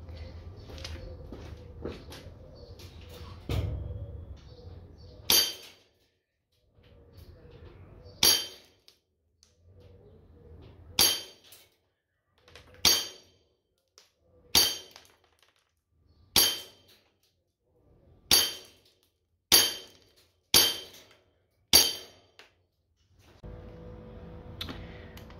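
An airsoft Desert Eagle pistol fires plastic BBs at a glass jar: about ten sharp, loud cracks spaced a second or two apart, each with a bright glassy ring, with a low hum and some background noise at the start and end.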